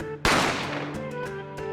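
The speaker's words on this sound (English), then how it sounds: "A gunshot rang out" A single sharp gunshot cracks out abruptly in The Great Ace Attorney Adventures, followed by a ringing, slowly fading tail with a few faint clicks.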